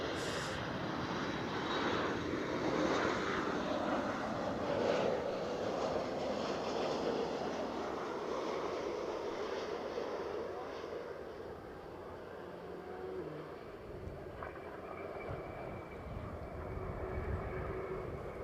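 A WestJet airliner inbound from Toronto arrives at Edinburgh airport, its engine roar loud and steady at first, then easing and thinning toward the end, with low rumbling beneath and no talk.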